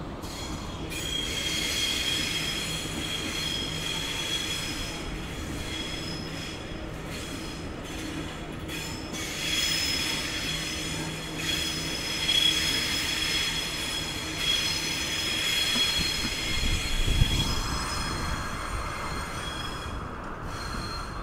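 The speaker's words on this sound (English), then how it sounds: "We have a Waratah arriving into platform 18" Sydney Waratah electric train arriving at a Central Station platform, wheels squealing and rail noise rolling steadily for a long stretch, with a louder rumble and thump near the end as it slows alongside.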